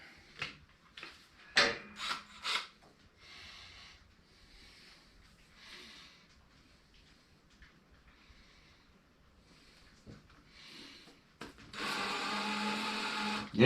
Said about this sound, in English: this is loud drilling that table